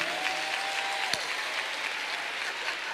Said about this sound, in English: Clap your hands for them again. Clap your hands.